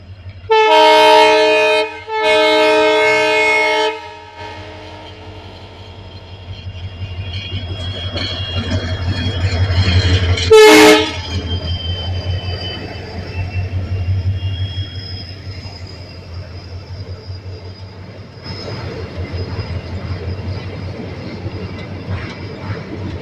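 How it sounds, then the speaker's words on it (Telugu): A train crosses a bridge over the Mahanadi river, opening with two loud horn blasts, then a sustained low rumble and rhythmic clatter of wagons rolling past at close range, with a sharp burst midway and no talk. "ట్రైన్ వస్తుంది ఇంకొకటి."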